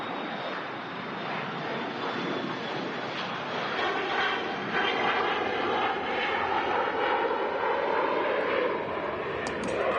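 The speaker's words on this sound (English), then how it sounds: "There she goes, the Falcon. Departing there." A Dassault Falcon three-engine jet departs Manchester Airport with a loud, steady roar of jet engines that swells and grows stronger partway through, with no talk over it.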